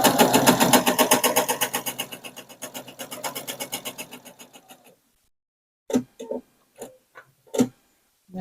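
A home sewing machine quilting with a walking foot stitches in a fast, even rhythmic clatter that slows and stops after about five seconds, followed by a few separate clicks and handling knocks.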